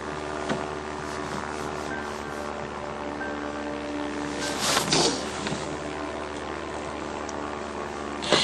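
An airplane in flight gives a steady engine drone with a constant hum, heard in a soap opera scene, loud and continuous with a brief whooshing swell near the middle.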